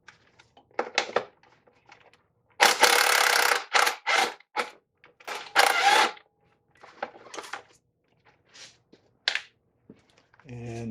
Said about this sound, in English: So I just put a little bit of no residue duct tape on here, and so when I peel this off,